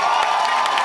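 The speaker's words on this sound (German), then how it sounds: "brauchen noch einmal einen riesen Applaus für unsere Vorband heute," Concert crowd at Flex in Vienna cheering and applauding the opening band, a dense, loud wash of whoops and clapping with no pauses.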